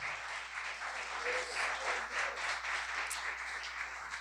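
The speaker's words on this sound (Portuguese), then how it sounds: "Você pode dar um aplauso para o Senhor" Church congregation applauding together during a Sunday worship service, a steady, sustained wash of clapping at moderate distance with no voices over it.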